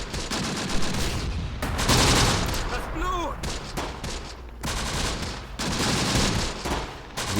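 Continuous battle noise from the Close Combat war game: dense, overlapping bursts of gunfire and heavy booming artillery, loud and unbroken throughout, with brief whistling tones in the middle.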